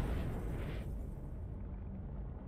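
A ship explodes in the space game Elite Dangerous with a deep, rumbling boom that rolls on as a heavy low roar, an airy burst fading early while the low rumble continues.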